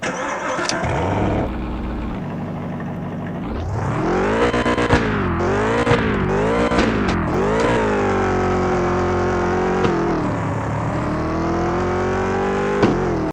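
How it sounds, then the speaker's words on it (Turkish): A car engine in a mobile car simulator game starts and revs repeatedly, the pitch climbing and falling in strong surges, loud and close, with a synthetic game-like quality. "Hemen size bir arabanın sesini dinletmek istiyorum. Bir arabanın sesini dinleyin."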